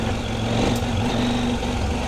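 A CFMOTO Ibex 800T adventure motorcycle engine running on a rocky creek in Shannon County, Missouri, a steady close rumbling idle with a constant low hum throughout.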